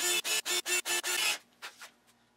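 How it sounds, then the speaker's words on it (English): Five quick, harsh grinding bursts in a steady rhythm, like a countersink bit biting into wood, followed by a few softer scrapes. "Countersinking."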